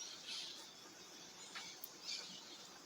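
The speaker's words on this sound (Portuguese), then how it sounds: "Aquele típico bom dia ao som dos pássaros." Birds chirping in the morning, a few faint high calls rising over a soft, quiet background hiss.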